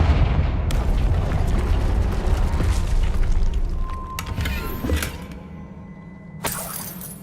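Confringo spell explosions in the Hogwarts Legacy video game, a rumbling blast that fades, followed by sharp cracking bursts and crumbling debris, with a final sudden burst near the end.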